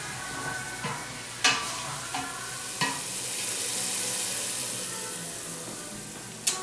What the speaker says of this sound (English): Now we're going to add a 1/2 cup of white wine. And we're going to let that cook out